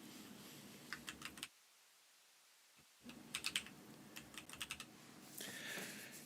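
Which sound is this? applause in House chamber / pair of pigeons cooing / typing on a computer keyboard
typing on a computer keyboard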